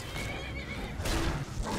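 Horse in the video game Skyrim gives a loud whinny, followed by a few clip-clopping hoof steps, with no voices.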